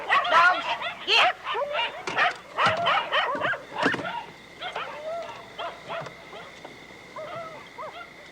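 Several dogs bark in a rapid, loud flurry at a rural house in Coweta County in 1983, then settle into scattered yips and whimpers, with a faint whine underneath.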